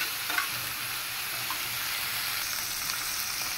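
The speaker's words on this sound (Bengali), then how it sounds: "অল্প একটু হলুদের গুঁড়া, মরিচের গুঁড়া, লবণ সব কিছু দিয়ে আমি ভালো মতো মশলাটা কষাই নিতেছি।" Masala with turmeric, chili powder and salt sautéing in a pan, a steady, even sizzle throughout with a few soft scrapes of stirring near the start and no talking.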